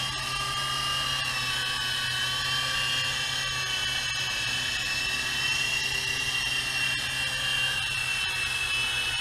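A small GP Toys G610 coaxial RC helicopter hovers nearby with a steady, high-pitched electric whine of motors and spinning rotor blades, continuous and even throughout with no voices.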